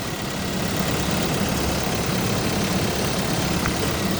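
Toyota Innova with a faulty mass air flow sensor and lack of power, its engine idling in a steady, even low rumble, close by and continuous, with no voices.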